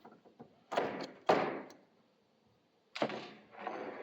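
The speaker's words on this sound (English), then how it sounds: "Or I can use a hammer and pry it out." A hammer pries a screw out of old reclaimed lumber: a few close knocks and sharp scraping thunks as the claw bites and levers the wood, then a pause before another grinding pull.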